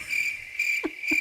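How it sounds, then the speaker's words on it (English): Crickets chirp in a steady, bright, continuous trill at moderate volume, broken by two brief soft low thumps near the end. "Crickets."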